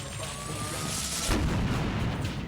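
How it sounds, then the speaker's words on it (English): Explosion effect from the video game Persona 3 FES, a broad rumbling boom that swells in midway and lingers as a dense, noisy roar over a steady background tone. "Here's an explosion."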